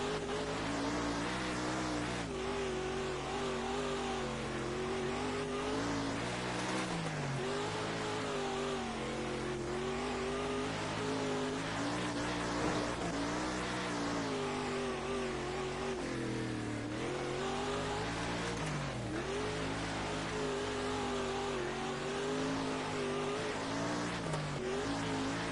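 Dirt late model race car engine in the World of Outlaws racing game, a loud continuous roar that rises and falls with throttle, with brief revving dips and tire squeal, steady throughout.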